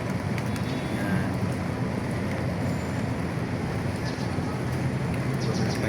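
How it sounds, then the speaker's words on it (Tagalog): Steady rain falls on Hison Street in Santa Cruz, Manila, a continuous broadband hiss that stays even throughout. Someone briefly speaks over it. "Umuulan mga idol, umuulan na naman."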